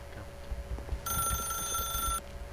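A telephone in the video game The Stanley Parable gives a single bright electronic ring lasting about a second over a low, quiet background hum.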